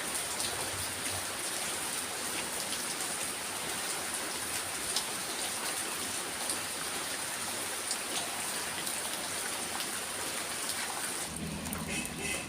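Heavy rain pours steadily as a dense, loud hiss throughout, with a low rumble beneath it, easing slightly in the final second.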